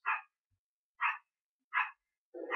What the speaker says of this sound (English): that is one of my next door neighbor's dogs